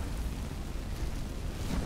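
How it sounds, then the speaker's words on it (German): Explosions in the fantasy role-playing game Enderal, a loud, continuous low rumble of blasts with crackling bursts rising and falling through the whole moment. "Und alle explodieren in unser Gesicht."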